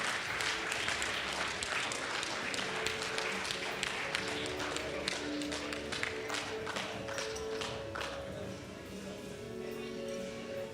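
Applause from a ceremony audience greeting a gold-medal programming contest team, with sharp individual claps standing out over a steady crowd clapping, fairly distant, and a low sustained musical tone running underneath.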